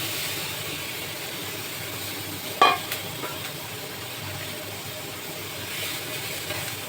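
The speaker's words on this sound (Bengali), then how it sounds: "এটা যতক্ষণ না ব্রাউন কালার না আসবে ততক্ষণ আমি ভাজতে থাকবো।" Onion and green chillies fry in a pan with a soft, steady sizzle. A single sharp clink of a utensil sounds early on, and the rest is a quiet, continuous hiss.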